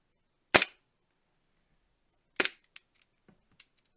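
Airsoft pistol fired with green gas and no BBs, two sharp close pops about two seconds apart, each followed by small mechanical clicks in otherwise quiet surroundings.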